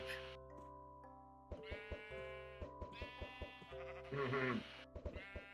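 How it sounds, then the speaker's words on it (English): Blocky Minecraft sheep bleat several times in a row, clear and fairly close, with a short louder burst near the end over steady tonal game music. "Look at how sheep are now spawning eggs."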